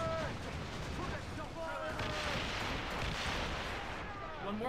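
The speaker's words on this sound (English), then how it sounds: "One more mortar should do it!" Mortar fire in a naval battle video game, a rolling wash of heavy booms and battle noise, loud and continuous, with someone talking over it.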